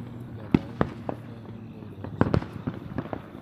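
Fireworks shot off outdoors on the Fourth of July, a series of sharp, loud bangs and cracks scattered across a few seconds, some doubled in quick succession, over a low steady background rumble.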